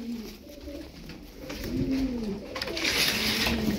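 Several Ankara Kırı play pigeons coo in soft, repeated low throaty phrases that overlap one another, fairly close, with light background noise and no voices.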